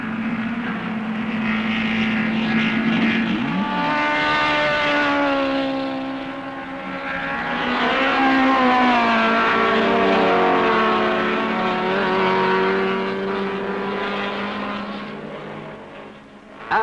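1968 British Saloon Car Championship racing, with a Ford Escort leading: loud, high-revving engine notes of saloon race cars rise and fall as the cars pass, one sweeping by after another.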